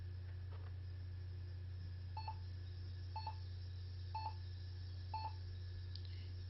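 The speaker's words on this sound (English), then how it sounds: "And we get a couple of beeps there." Four short beeps about a second apart, each a quick double tone, from an HP DV6000 laptop at power-on with a blank screen, over a steady low electrical hum, with no voices.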